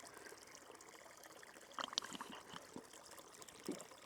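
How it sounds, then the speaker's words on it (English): Cold spring water trickles up under moss in a northern swamp, a faint, quiet gurgle with a few soft drips and splashes standing out. "The water is coming up here under the moss, and then you can really hear it as well."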